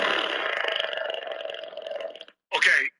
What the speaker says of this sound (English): this is apparently a dinosaur fart from TikTok